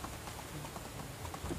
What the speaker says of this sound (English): Oh, man, this rain is super loud.